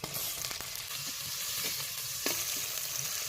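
Steady sizzling of mustard seeds, ginger-garlic paste and chopped onion frying in hot oil, with a few sharp crackles and pops cutting through the hiss.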